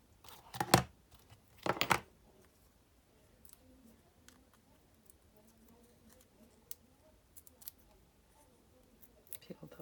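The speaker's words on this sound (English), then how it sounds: "we're going to peel the backs off of here" Adhesive backing peeled off paper cards, two short crisp ripping strips near the start, then soft scattered paper rustles and small ticks, quiet and close.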